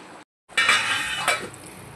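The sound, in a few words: putting lid on cooking pot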